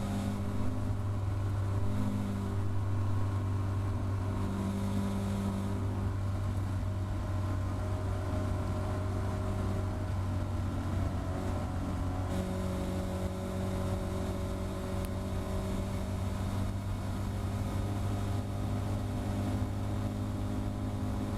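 A Caterham race car's engine running hard at Thruxton, a continuous loud in-car drone with steady pitch and slight shifts as the revs change, no talking.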